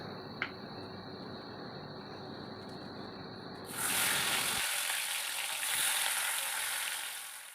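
Pumpkin leaf paturi stuffed with shrimp and lentil paste frying in a pan, a soft steady sizzle that jumps to a louder, brighter crackling hiss as more parcels go in.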